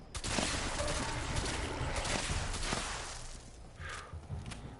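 Fallout 76 gunfire in the distance: a dense run of quiet, rapid shots that thin out toward the end, with no talking over it.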